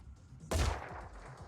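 One gunshot in Phoenix Point, aimed at an enemy's arm, cracks out loud and sudden against a quiet background and fades with a short rumbling tail.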